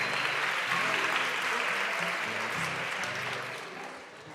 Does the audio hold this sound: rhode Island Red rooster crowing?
no